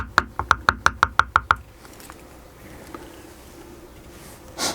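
A leather tooling tool taps lightly on leather eight times in a quick, even rhythm, then quiet with a faint rustle and a soft bump near the end.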